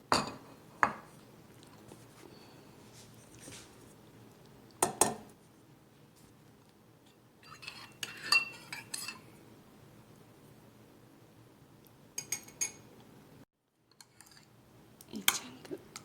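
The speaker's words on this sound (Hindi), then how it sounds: "एक चंक इसमें डाल के हम इसको अच्छी तरह से मिक्स कर दें" Chunks of green squash stirred into yogurt in a bowl for raita, giving scattered clinks and scrapes of a spoon against the dish, spaced out over a quiet background.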